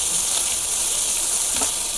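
Cumin and mustard seeds crackling in hot oil for tempering, a steady sizzle with small pops throughout a short stretch.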